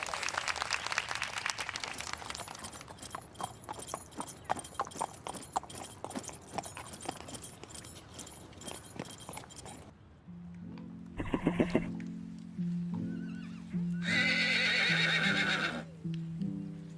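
Horse sounds from the Star Stable video game at a show jumping event, quick rhythmic hoofbeats for about ten seconds followed by two loud, distinct whinnies.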